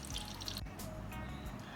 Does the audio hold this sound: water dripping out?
yes